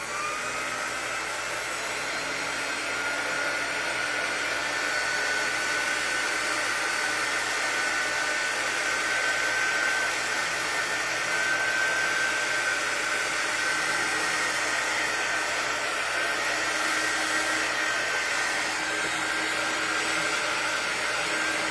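A heat tool blows a steady, loud, continuous whoosh with a high whine, heat-setting ink on fabric, holding unbroken and alone for the whole stretch.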